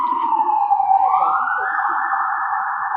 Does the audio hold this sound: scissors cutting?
no